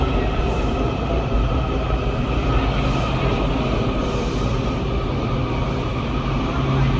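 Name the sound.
Washington metro subway train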